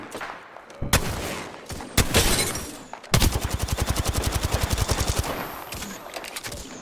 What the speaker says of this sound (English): Whoever's shooting is missing their shots and he got me